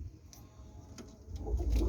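Pigeons coo softly in a loft, a low, murmuring burble that stays faint at first and grows a little fuller toward the end, with no talking.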